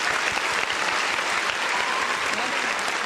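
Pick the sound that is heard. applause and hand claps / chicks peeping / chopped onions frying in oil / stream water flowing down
applause and hand claps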